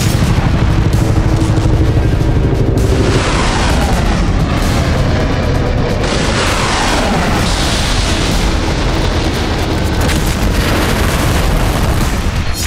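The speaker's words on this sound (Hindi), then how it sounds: "आधुनिक टेक्नोलॉजी से लैस लंबी दूरी की क्षमता वाली अग्नि 5 मिसाइल का परीक्षण किया।" Launch of India's Agni 5 long-range missile, equipped with MIRV technology: a continuous loud, dense roar and rumble fills the whole stretch, sustained and powerful with rolling blast-like surges throughout and no talk.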